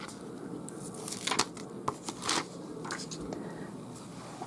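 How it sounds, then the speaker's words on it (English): Backing paper is peeled off a small cut piece of rhinestone transfer sheet for a patriotic hat, giving several close, crisp crinkling and tearing rustles in short bursts with brief pauses between. "I'm going to take that backing off."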